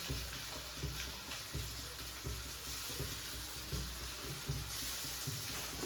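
Tomato paste sizzles and fries in a pan for Punjabi-style pav bhaji, a steady hissing sizzle with soft periodic stirring scrapes, fairly quiet and without talk.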